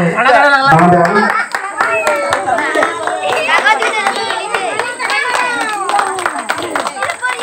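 A crowd claps at a village Nuakhai festival program, the dense, uneven hand claps continuing throughout with children and adults talking and calling out loudly over them.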